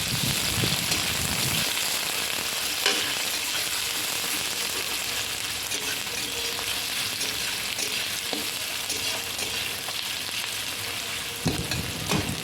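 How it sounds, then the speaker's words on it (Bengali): Steady sizzling of onion, garlic and ginger frying in oil, a continuous crackle with occasional stirring clinks, no voices. "পেঁয়াজ, রসুন আর আদা একটু ভালো করে ভাজা ভাজা করে নিলাম।"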